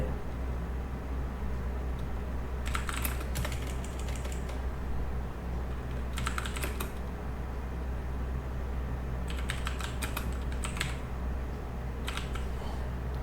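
Computer keyboard keys are tapped in several short bursts of typing, spread apart across a quiet room with a steady low hum underneath and no speech.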